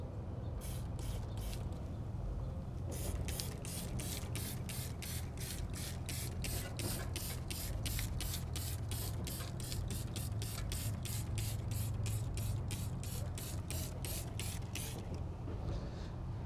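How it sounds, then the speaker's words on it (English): A foaming trigger sprayer shoots wheel cleaner onto a car wheel in about thirty quick, evenly spaced squirts of close, sharp hiss, after a few hesitant pumps at the start. "This sprayer handle is designed to shoot your wheel cleaner in a foamy manner."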